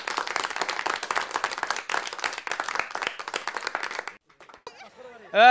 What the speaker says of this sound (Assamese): প্ৰথমে সকলে এটা জোৰদাৰ হাত চাপৰি দিব লাগে